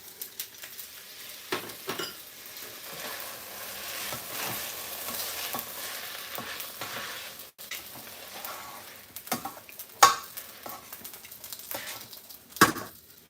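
Lemon juice hitting a pan of pad thai over lowered heat, a soft continuous sizzle broken by irregular clicks, scrapes and a few sharper knocks of utensils, fairly close and moderate in level with no talking.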